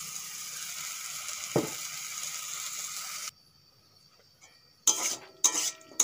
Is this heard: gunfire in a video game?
no